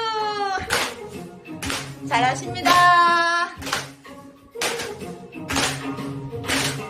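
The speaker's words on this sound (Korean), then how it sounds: "박수" Clapping in a Korean senior center activity session, rhythmic bursts of hand claps alternating with singing and talking voices, close and fairly loud.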